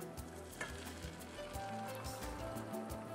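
Garlic sizzling gently in hot oil, a faint, even crackle like light rain that holds throughout with scattered small pops.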